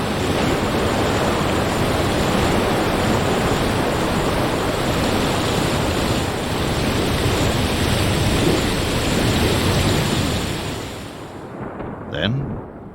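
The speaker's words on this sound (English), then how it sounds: "the rains that arrived on the wings of thunder fade with the evening light" Heavy rain in the Sonoran Desert pours as a dense, loud, continuous roar for most of the stretch, easing off near the end, where a brief deeper rumble like thunder rises over the fading wash.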